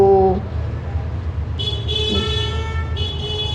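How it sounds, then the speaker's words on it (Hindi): Traffic runs steadily on a main road outside a house, with car horns tooting in several short and sustained honks over the constant road rumble. "मेरा घर बिल्कुल it's on the main road, तो थोड़ा सा ट्रैफिक का भी आवाज़ आ सकता है आपको बीच बीच में"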